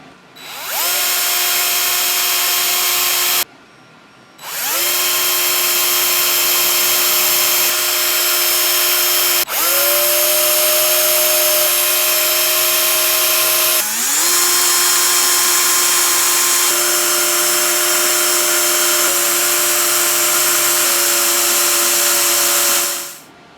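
Close, loud power drill boring holes in a scale model in long sustained bursts with brief pauses, pitch dipping as the bit bites and then steadying again.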